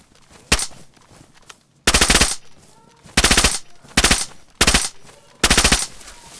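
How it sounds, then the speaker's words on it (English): Loud bursts of automatic gunfire from the video game DayZ, with one short shot followed by about five rapid volleys spaced roughly a second apart over a quiet background. "Took me enough shots."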